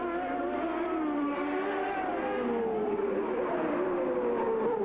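CART Indy cars racing on the final lap of the 1990 Long Beach street circuit, Michael Andretti chasing Danny Sullivan's number 7 car; a loud, continuous high engine whine with pitch sliding and shifting as the cars speed past.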